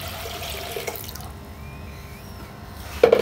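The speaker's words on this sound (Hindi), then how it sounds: "एक जग पानी ले लिया है, इसको हमने पतीले में डालना है" A jug of water is poured into a cooking pot for a potato, egg and chickpea curry. Soft trickling and splashing stay fairly quiet, then a sharper splash comes near the end. No talking is heard.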